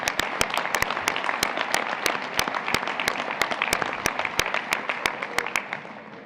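Sustained applause from a crowd at a national soccer federation's annual general meeting, honoring life members of the game; steady dense clapping with sharp individual claps standing out, fading slightly at the end.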